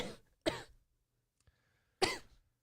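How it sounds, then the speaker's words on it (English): Two sharp, close coughs about a second and a half apart, with near silence around them. "And then the cough came."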